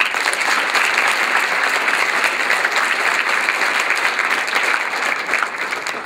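An audience gathered to honour school award recipients applauds loudly and steadily, a thick, sustained roar of many clapping hands with no pause.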